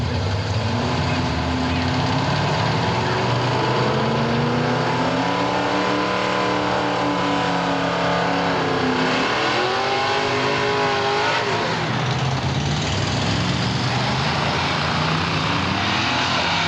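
Engine roar from a 1967 Ford Mustang on a drag racing run, loud and continuous with rising and falling revs as it accelerates down the strip, with crowd and announcer-style voices faintly mixed under the noise.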